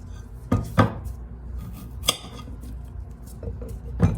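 A kitchen knife cuts the ends off a cucumber for a healthy alkaline salad, giving a few distinct knocks on a cutting board spread across the clip, close and crisp, with no talking.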